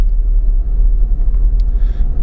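A Lada Niva rolls slowly in first gear, giving a low, steady engine rumble heard from inside the car with a slight rhythmic throb and a faint brief rattle near the end.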